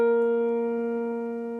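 A steady reference tone sounding the note do, a single sustained pitch with overtones that slowly fades over about a second and a half, with no talking.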